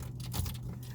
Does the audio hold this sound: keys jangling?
yes